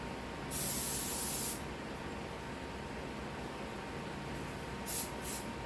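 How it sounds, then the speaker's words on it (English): Cooking spray hisses from a can onto a pie pan in two separate bursts, a longer spray of about a second and then a shorter double puff, both close and soft over quiet room tone. "I am going to spray it with cooking spray really lightly"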